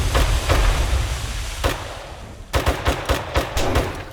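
Machine gun fire in 7 Days To Die during a chaotic Normandy-landing battle against zombie Nazis, loud sharp bursts with a steady low rumble beneath, then a dense rapid run of close shots in the final seconds.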